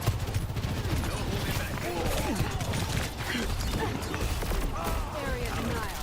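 Overwatch match gameplay with dense, continuous gunfire and explosive torpedo shots, rapid overlapping bursts and impacts filling the whole stretch at high volume.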